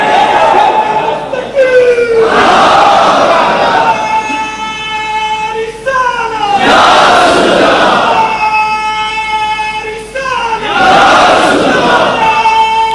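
A large crowd at a religious gathering roars a slogan in three loud, sustained bursts, each answering a single leading voice that calls out first.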